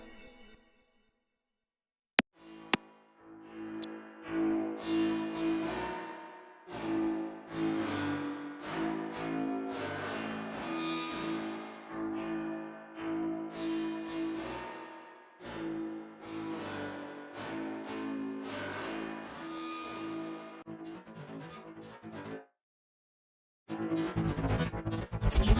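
Piano-like notes ringing out through a reverb squeezed by a Kotelnikov compressor plugin, phrases of sustained tones with tails that swell and then cut off, quiet, with a short gap of silence near the end.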